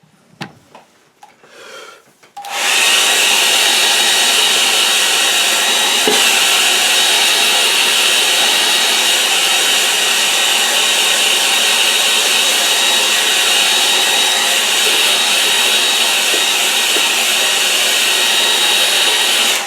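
A hair dryer switches on after a few seconds of quiet handling noise and blows with a loud, steady whoosh for the rest of the time, drying a watercolour painting.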